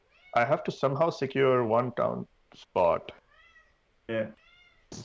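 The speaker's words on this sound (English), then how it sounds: "if you hear a Siamese cat screaming in the background, that's not in your head, that's actually a live cat that's standing next to me." A live Siamese cat meows and yowls loudly beside someone speaking, its drawn-out harmonic cries rising between and over his words several times across a few seconds.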